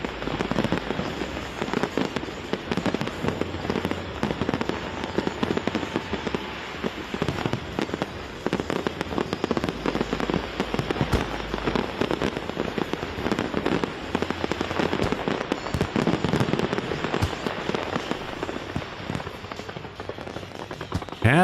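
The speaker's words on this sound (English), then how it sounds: "I bet you I have sound effects of fireworks" Fireworks sound effects play continuously on a New Year celebration livestream, a dense unbroken barrage of crackling bursts and pops at steady loudness throughout.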